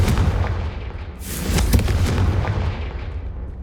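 A Confringo fire spell in Hogwarts Legacy, one sharp booming blast that cracks out about a second in and rumbles away over a low background drone.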